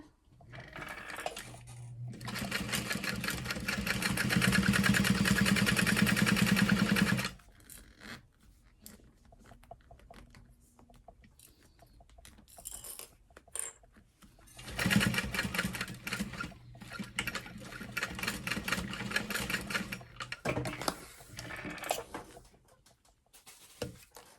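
A sewing machine stitches the seam of a mini clutch wallet, running in two loud sustained bursts of whirring separated by a quieter stretch of rustling and handling of fabric.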